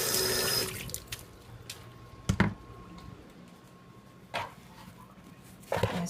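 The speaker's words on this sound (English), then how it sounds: "just wash my hands" Hands being rinsed under a running kitchen tap during homemade bread making, a steady soft stream of water broken by a few louder splashes and clatters, fairly close with no talking.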